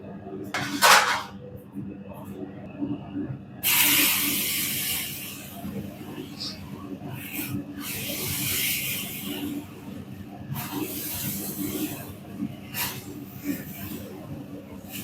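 Mustard seeds, urad dal, moong dal and cumin dry roasting in a pan for horse gram rasam powder, with soft hissing and scraping stirs of a utensil against the pan, interrupted by louder bursts of rattling.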